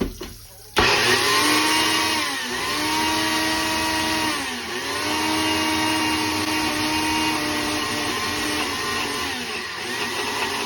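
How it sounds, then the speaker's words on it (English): A countertop blender whirs through beans with a loud, steady motor drone, starting abruptly after a brief moment and dipping in pitch every couple of seconds as the load shifts, running on without talk. "And I blend it"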